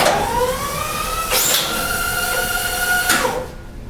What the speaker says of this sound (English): You'll hear the strap feed through the machine.